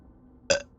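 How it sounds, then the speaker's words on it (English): A single short burp close to the microphone, a brief loud burst that stands alone over faint background noise. "I say I burp on you, sir."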